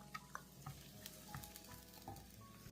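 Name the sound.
onion frying in oil in a pan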